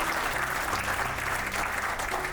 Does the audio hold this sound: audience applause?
yes